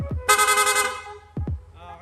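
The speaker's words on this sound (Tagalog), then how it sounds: "Rapid horn, okay, ayan." A Yamaha NMAX 155 scooter's dual PIAA horn blares in a long sustained honk, followed by two quick short toots against low engine rumble.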